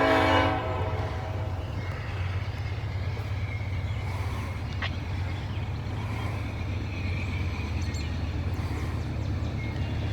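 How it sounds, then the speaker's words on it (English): A Union Pacific locomotive hauling a train past at a distance, with a continuous low rumble of wheels and cars and a fainter horn blast near the start. "Looks like you might have a UP locomotive too."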